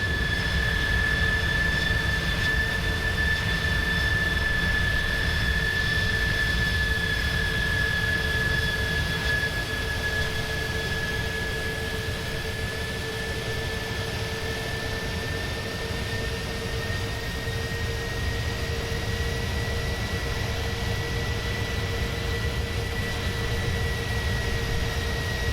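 Jet engines of an Airbus A310 in Microsoft Flight Simulator 2020, heard on approach as a steady, loud cockpit drone with sustained whining tones and no breaks. No one talks.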